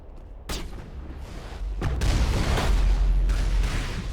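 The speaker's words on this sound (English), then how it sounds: "if we want to get shot at by turrets" Turrets fire in the Mass Effect video game, with two sharp booming blasts a second or so apart and then a loud, sustained rumbling roar that stays up close to the end.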